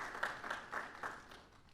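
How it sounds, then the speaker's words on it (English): Light applause with several distinct clap bursts spaced roughly evenly, fairly faint and fading out toward the end. "Let's give him two rounds of applause."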